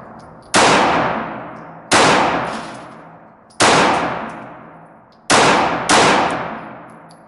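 Five loud pistol shots from a Glock 43 Gen 4 9mm fired at a target 25 feet away, each a sharp crack with a ringing decay, unevenly spaced with the last two close together, no talking.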